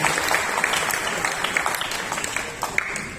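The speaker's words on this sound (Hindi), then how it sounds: "इसके लिए आपको एक बार जोरदार तालियां आप सबके लिए बजाना चाहिए।" Members at a group installation ceremony clap together, a moderate continuous patter of many hands with scattered sharper claps standing out, no talk over it.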